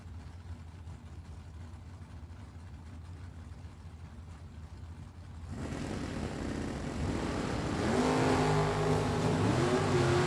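Drag race launch at the World Super Pro Challenge, a pickup truck and a Monza side by side: low idling rumble, then a sudden loud roar at full throttle that swells with rising engine whine as both pull away.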